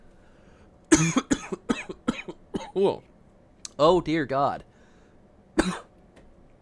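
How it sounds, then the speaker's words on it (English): A burst of harsh, repeated coughs, followed by a few short exclamations from a person. "I'm coughing the soul right out of my body."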